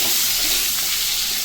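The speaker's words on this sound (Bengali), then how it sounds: "আমি আলুটা একটু হালকা ভেজে নেব।" Potato pieces fry lightly in hot oil in a pan for a fish curry, giving a steady, close, even sizzle and hiss with no talk over it.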